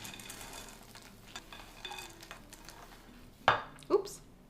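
Sourdough chocolate chip cookie dough made with browned butter is stirred with chocolate chips in a bowl, soft scraping and faint clinks, then two sharper utensil knocks against the bowl near the end.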